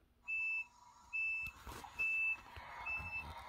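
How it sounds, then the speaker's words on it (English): A model train's loud electronic door warning beep sounds four times in a regular pattern, each tone about half a second, with faint mechanical rattles between them. "That's the door beep, and Both sides make the sound."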